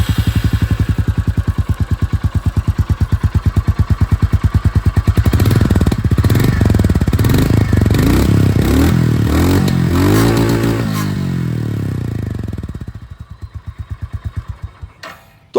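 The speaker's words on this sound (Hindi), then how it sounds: "ये जो एग्जॉस्ट साउंड है वो मैं आप लोगों को यहाँ पर सुना दूँ एक बार।" A 2024 Royal Enfield Goan Classic 350 motorcycle thumps loudly and close at idle through its exhaust, then revs up and back down in a few rising blips before settling to a slower, uneven idle.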